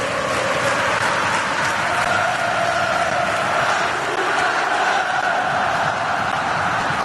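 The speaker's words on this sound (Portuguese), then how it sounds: "Vai cantando a torcida Cruz Maltina." Vasco da Gama supporters, the Cruz Maltina crowd, singing in the stands during a Brasileirão league match against Náutico, a dense, steady wall of massed voices filling the stadium throughout.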